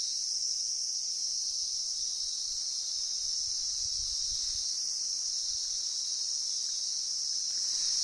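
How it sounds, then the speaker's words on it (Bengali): Crickets chirp steadily and without a break during a morning walk on the Sitong tour trail, a continuous high insect drone that holds level from start to finish, with faint low rumbles underneath. "বেশ কিছু ঝিঝি পোকা ডেকে চলেছে"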